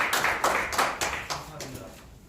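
Audience clapping to welcome a speaker at a Korean emergency forum, a burst of hand claps with rhythmic peaks that tapers off over two seconds, moderately close and fairly faint.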